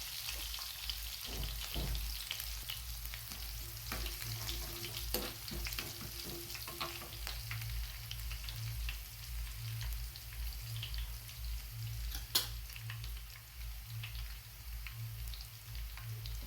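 Chopped garlic hits hot oil for a dal tadka, giving a steady, close frying sizzle with stirring clatter and occasional sharp pops throughout.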